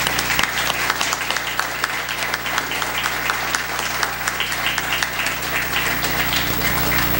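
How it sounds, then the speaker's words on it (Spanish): Sustained applause from a theatre audience at Teatro San Felipe in 2014, dense steady clapping filling the hall without pause, with a low constant hum underneath and no speech. "yo quiero pedirles un primer aplauso por la gestión que desarrolla el teatro"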